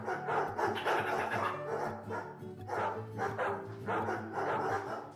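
A pet dog barks repeatedly indoors in a run of short rhythmic bursts, moderately close and fairly loud, with brief pauses between volleys and no clear talking.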